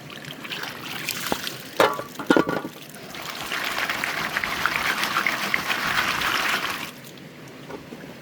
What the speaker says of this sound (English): Gotta make sure you wash your classifier good every time.